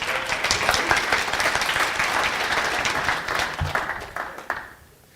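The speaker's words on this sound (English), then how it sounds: "Give him a nice round of applause, would you?" A live audience gives a volunteer called up on stage a full round of applause, steady dense clapping that fills the room for several seconds before tapering off at the end, with no voices over it.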